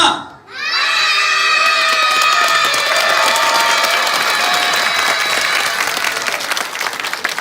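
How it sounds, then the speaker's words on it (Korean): A group of children shouts a sustained, loud battle cry for about five seconds on command, voices merging into one continuous roar that begins abruptly after a brief pause and holds steady to the end. "전방에 함성 5초간 발사!"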